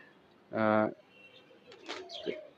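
A crossbred pigeon from a mixed four-breed home flock gives one strong, full coo near the start, followed by softer, fainter sounds at close range.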